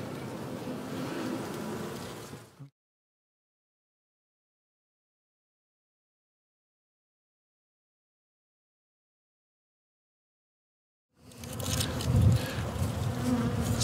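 Honey bees buzz around a hive during early spring feeding, a dense, close insect drone heard in two stretches split by a long silent gap.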